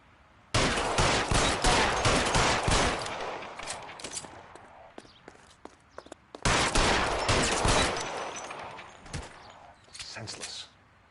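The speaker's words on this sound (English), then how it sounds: "Lay down some covering fire." Covering gunfire in L.A. Noire: two long, loud bursts of rapid shots, one early and one after a short lull, with scattered single cracks between and a final short volley, close and sharp.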